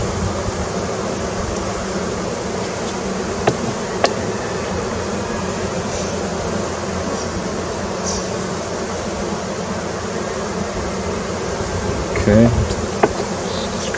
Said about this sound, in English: Can you use a scraper and scrape the bottom off?